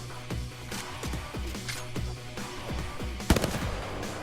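Repeated gunshots at a firing range, fired from the hip, in a rapid uneven series of loud, sharp cracks with a denser burst of shots near the end; no talk.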